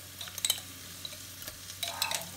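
Crab fat and seasonings are stir-fried in a pan, with quiet scraping stirs and utensil clinks in short bursts over a faint sizzle, close and without speech.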